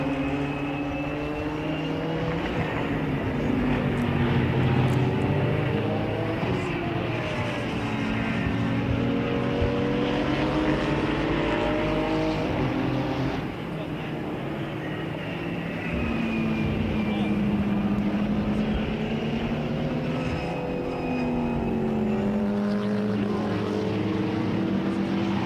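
GT4 race cars, a Porsche Cayman and a Mercedes, race at Brno with rising and falling engine whines through gear changes, passing repeatedly over a steady background roar while a commentator talks.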